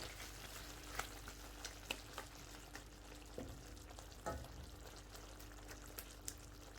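Hyderabadi chicken curry with coriander leaves and chillies cooking in a pot, a faint steady sizzle with occasional soft clicks and scrapes as it is stirred.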